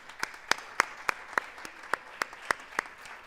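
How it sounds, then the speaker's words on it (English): Clapping at a student leadership awards ceremony, heard as a sparse, regular run of distinct claps about every quarter second, crisp and fairly close, with no voices over it. "let's give one more round of applause for Patrick"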